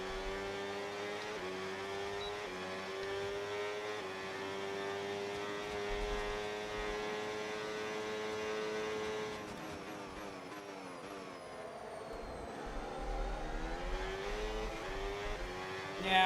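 F1 race cars on the final lap in the F1 26 racing game, a loud, continuous high-revving engine whine rising and falling through gear changes, with other cars passing close.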